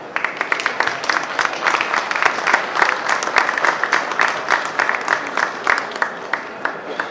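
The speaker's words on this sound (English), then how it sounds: "all of them deserve an applause" Applause after award nominations at the VISTAS 2014 ceremony, dense rhythmic clapping from a crowd, loud and sustained for about seven seconds.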